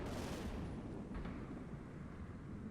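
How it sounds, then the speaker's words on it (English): Mortar round bursting in the Combat Mission wargame, a broad rumbling blast at the start that decays into a long low roll with a faint second thump, heard alone. "looks like more mortar fire at the front"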